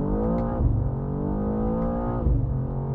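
A BMW M2 with an 8-speed automatic accelerating hard, its engine drone climbing steadily, with two brief dips where upshifts land before the pitch climbs again, loud and close.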